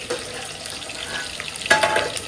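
Onions sautéing in a pan produce a soft, steady frying hiss with light stirring scrapes, growing a little louder near the end.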